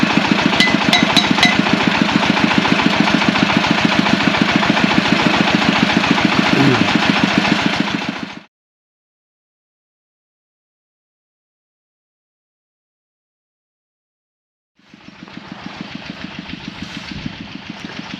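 Engine of a groundwater well drilling rig boring a borehole at a drinking water factory, a loud steady rhythmic thumping drone that cuts off abruptly, falls silent for several seconds, then resumes.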